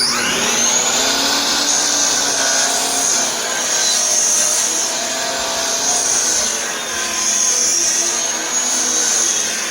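A power saw cuts a miter through a wooden side board for a flatbed truck, a steady loud whine running for nearly ten seconds with slight dips in pitch as the blade works through the wood.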